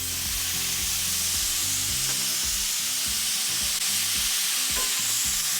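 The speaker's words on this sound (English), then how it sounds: "From there, I'm going to deglaze with some beef broth." Beef broth poured over softened shallots in a hot pan for deglazing, producing a loud, steady close sizzle and bubbling throughout with faint stirring, no voices.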